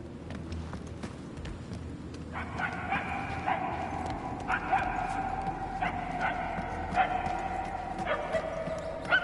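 A dog barks repeatedly in a regular series of short, tonal yips about a second apart, moderately close, over a busy low background with some clopping, scraping noises.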